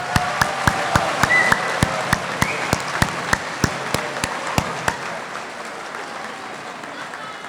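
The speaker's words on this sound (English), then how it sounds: "Let's give them a round of applause." Applause from a graduation ceremony audience for the student leadership, a crowd clapping steadily with sharp individual claps standing out, holding strong for about five seconds before fading to scattered claps.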